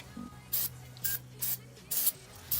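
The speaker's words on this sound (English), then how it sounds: "got a wire brush and some brake cleaner" Five short hissing bursts of aerosol brake cleaner spray, evenly spaced about half a second apart, close by against a faint background hum.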